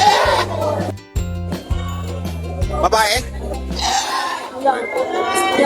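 Goats bleating at a busy livestock market, several loud nasal bleats rising through steady crowd chatter, with people talking close by throughout.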